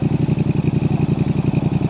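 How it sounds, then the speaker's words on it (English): A Yamaha XSR700 fitted with an SC Project exhaust, idling close up with a loud, even, rapidly pulsing burble and a steady rhythmic throb. "this SC project, man, sounds super clean"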